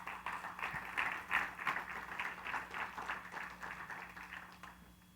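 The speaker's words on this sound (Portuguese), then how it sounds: "Dê uma salva de palmas a essa verdade." A church congregation claps in praise during a sermon, a rhythmic, moderately faint patter of many hands with a steady low hum underneath, sustained for several seconds.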